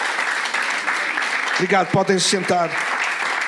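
A church congregation applauds steadily throughout, with a person speaking briefly over the clapping midway.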